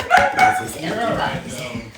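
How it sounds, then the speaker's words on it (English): Dogs bark indoors in a bathroom setting, a couple of short close yips near the start, while a person speaks over them. "Sorry about the dogs barking"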